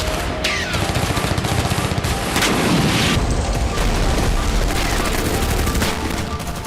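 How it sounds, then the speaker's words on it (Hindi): Russian artillery and tank fire on the Ukrainian front near Avdiivka, with loud, rapid bursts of gunfire and booming shots packed into a dense, sustained barrage. "रूस ने आर्टिलरी और टैंक से प्रहार तेज कर दिया है"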